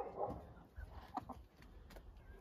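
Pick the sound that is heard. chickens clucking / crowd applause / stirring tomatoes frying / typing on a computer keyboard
chickens clucking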